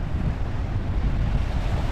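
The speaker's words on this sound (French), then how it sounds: "Je ne sais pas si vous m'entendez bien avec le vent." Steady, loud wind gusting across the microphone at a seaside beach at Cap Rousset, with a constant low rumble of surf underneath and no voices.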